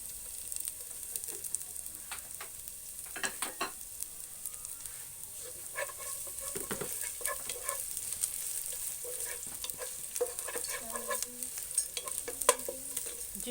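Onion with ginger and garlic fries in a pan for a chicken and vegetable stew, a steady close sizzle broken by repeated scraping and clicking strokes of a spoon stirring through the mix.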